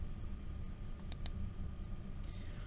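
A computer mouse gives a quick double click, then one more faint click a moment later, over a quiet room hum with no voices.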